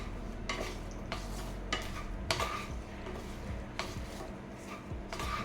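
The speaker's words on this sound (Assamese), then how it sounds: "গোটেইখিনি ভালদৰে এতিয়া লৰাই দিম" Cumin and red chili powder being stirred into a curry in a pot, with repeated scraping and knocking strokes of a spoon against the pan over a low background sizzle.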